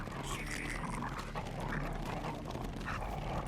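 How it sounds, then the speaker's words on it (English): A black dog bites down and growls in the Tsukihime video game, a rough, throaty snarling with yips and panting over a low rumble, continuous and close. "With my knife still plunged deep inside its head, the black dog tightens its jaw further."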